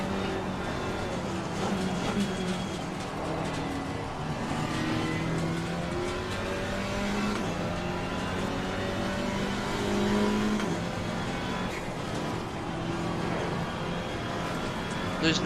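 A GT4 race car engine in a sim racing game drones and revs continuously through gear changes while climbing a hill, with a voice talking over it throughout.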